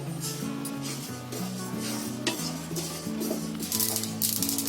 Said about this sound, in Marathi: पहिले मी तीळ भाजते.